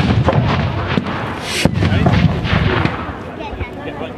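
An M36 Jackson tank destroyer fires during a loud outdoor battle reenactment, with repeated heavy booms and crackling gunfire over a constant roar of vehicles and crowd noise.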